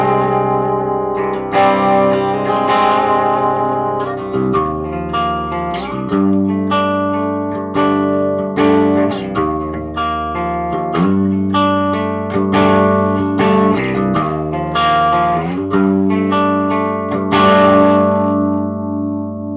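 Clean electric guitar through a Marshall DSL1HR one-watt tube amp head plays a sustained, shimmery chord progression, close and full, with ringing notes and no talking.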